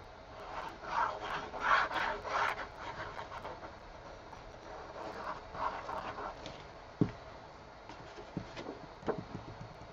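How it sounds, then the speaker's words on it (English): A tool rubs firmly over magnetic tape pressed onto an 8x8 scrapbook album page, giving soft scraping strokes in bursts, nearby and fairly faint, with a few small taps. "Make sure you burnish that space between the magnet and the edge really"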